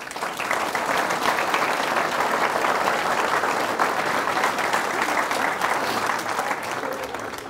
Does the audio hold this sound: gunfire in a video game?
no